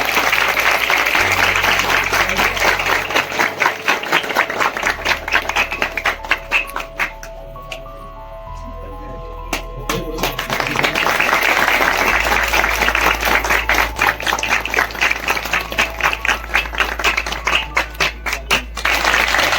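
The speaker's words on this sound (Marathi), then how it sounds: "जोरदार टाळ्या" A crowd claps loudly and steadily at a village welcome and felicitation ceremony in Sathlewadi for Dr. Pranay Pradeep Agri. The applause eases briefly midway, then swells back to full strength.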